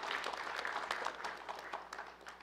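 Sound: applause for the Woodbridge Community Choir

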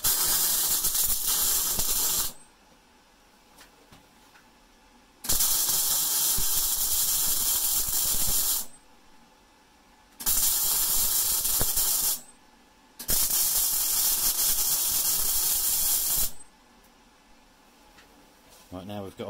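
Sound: welding a gear cog onto a wind turbine drive shaft

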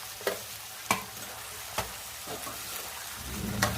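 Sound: stirring spices into tempering in a pan

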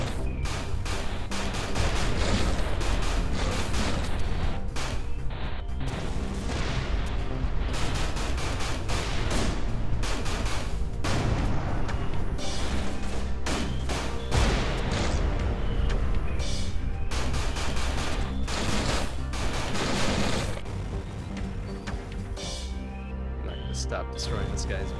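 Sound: explosions in the video game Everspace 2

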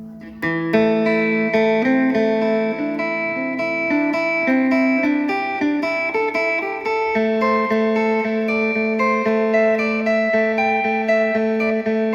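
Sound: electric phin lute string played

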